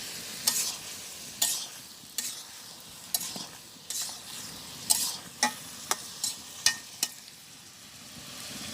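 A spoon stirring bottle gourd curry frying in a pan in a village kitchen: a soft steady sizzle under repeated sharp scraping clicks of the spoon against the pan.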